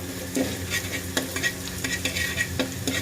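Garlic and ginger fry gently in a pan, sizzling with soft stirring scrapes and occasional clicks, steady and close, with no voices.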